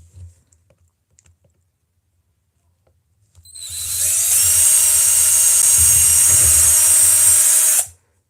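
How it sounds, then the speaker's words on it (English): A power drill runs steadily with a thin bit boring a pilot hole, a loud continuous whine starting abruptly after a few quiet seconds with some faint clicks, then cutting off sharply. "you use a thin bit and then go over to a thick bit"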